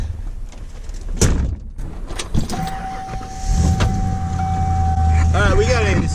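Getting into a truck: door thumps and clatter, then a steady mechanical whine like a power window or motor, with a voice speaking over the engine.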